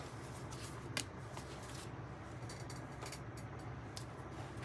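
Tarot cards are shuffled close up, a soft riffling patter with a few sharper flicks, steady and fairly quiet.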